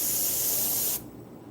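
A can of spray paint sprays onto claybord in one continuous close hiss for about a second, then cuts off abruptly, leaving a quiet room tone.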